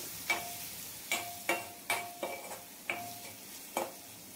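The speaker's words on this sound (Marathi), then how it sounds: "त्यानंतर काश्मीरी मसाला, त्यानंतर हळद, त्यानंतर गरम मसाला आणि चांगलं 2 ते 3 मिनिटं परतून घेणार आहे" Kashmiri masala, turmeric and garam masala sautéing in a pan for a pigeon pea curry, quiet sizzling punctuated by seven distinct metallic scrapes and taps of a spoon against the pan.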